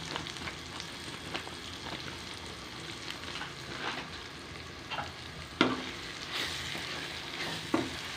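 Chili masala powder sautéed in hot oil for a brinjal and dried fish curry, a continuous close sizzle with spatula scrapes and a few sharp clacks against the pan.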